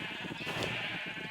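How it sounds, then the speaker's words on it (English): A single drawn-out Minecraft-style sheep bleat, steady and moderately loud, with a synthetic, game-like quality. "Pink sheep."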